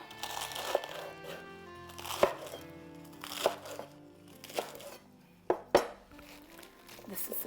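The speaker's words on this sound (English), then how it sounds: "Roughly chop." Romaine lettuce hearts roughly chopped on a board with a knife, a handful of crisp crunching cuts and sharp knocks spread over quiet moments, with faint background clatter.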